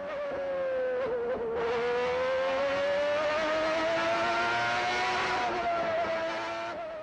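A 1991 Marlboro McLaren Honda MP4/6 with its RA121E V12 screams onboard on a record lap at Suzuka. The engine holds a loud, high, rising pitch that dips briefly on a gearchange near the start and eases off again at the end.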